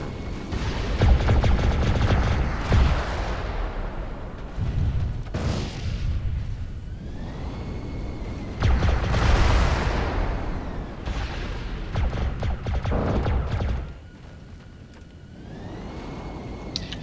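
Heavy mech weapons fire in a turn-based video game, loud booming volleys and crackling bursts arriving in several waves with brief lulls between them, no voices over it.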